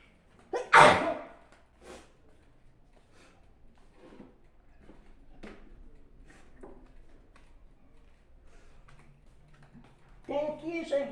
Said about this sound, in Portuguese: Tô espirrando, gente.